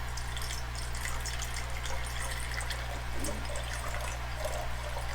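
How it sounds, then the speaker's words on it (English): Water pours steadily into a jar for a children's homemade lava lamp project, a continuous trickling wash under a constant low hum, close and fairly loud, with no talk. "Pour your water into your jar."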